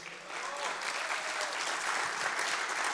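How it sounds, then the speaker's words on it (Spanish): Diners at a men's breakfast gathering applaud the chef, a steady, fairly close burst of clapping that fills the short stretch without pause. "un aplauso al chef"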